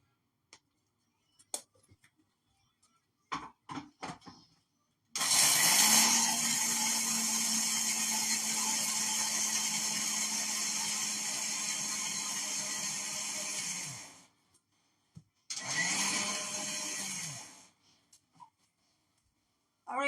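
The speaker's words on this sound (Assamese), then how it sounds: "ধুনীয়াকৈ এইখিনি মিক্সাৰত গ্ৰাইণ্ড কৰি ল'ম।" A mixer grinder grinds fried chana dal in a loud, steady whir that runs for about nine seconds and stops, followed by one shorter burst, with scattered small clicks and taps before it.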